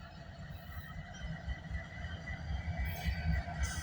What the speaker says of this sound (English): So what do we got for power on this eastbound train?